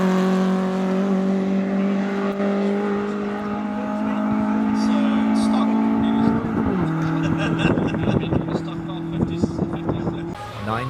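A 1926 historic race car runs at the Simola Hillclimb, its engine holding a steady droning note, then shifting gear and revving harder with crackling bursts. A commentator speaks over it.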